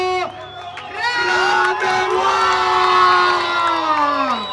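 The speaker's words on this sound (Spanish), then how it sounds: "¡Aplauso para el hermano Gaby!" Loud crowd at a Venezuelan freestyle rap battle knockout erupts in cheering and shouting, sustained sung-out yells and whoops layered over a dense roar throughout.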